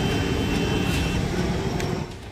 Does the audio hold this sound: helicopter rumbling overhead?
yes